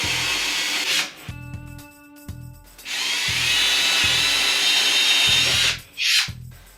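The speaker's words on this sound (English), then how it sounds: "In my case, we're going to drill a hole." Power drill boring a hole into a wall for a coat rack, in several short bursts: brief whirring pulses, then a long sustained grinding run, then a final burst, close and loud with no talking.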